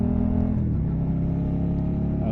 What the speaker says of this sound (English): when you hear this one, it's so much better than stock exhaust.